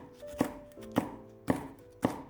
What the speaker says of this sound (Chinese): 再准备一个青椒，先给它切成细丝